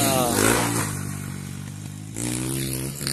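A 2001 Honda XR100R motorcycle engine runs steadily close by, its low, even drone continuing under someone talking throughout.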